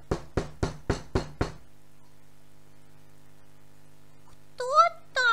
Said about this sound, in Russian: постучался.